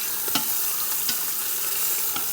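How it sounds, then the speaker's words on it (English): Beef short ribs searing in an Instant Pot make a dense, bright sizzle, with a few quick clicks of the meat being moved or turned. "make sure that you're searing all the sides of the meat"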